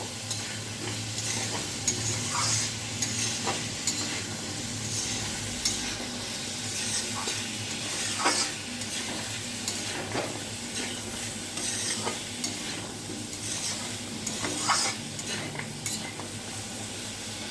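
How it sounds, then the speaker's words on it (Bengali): Fried lentil cakes (dhoka) get stirred through sizzling masala in a pan, a steady close fry hiss broken by repeated scraping strokes and light clinks of the spoon against metal, with no talking. "এখন একটু মশলার মধ্যে ভালো করে নেড়ে চেড়ে নেব।"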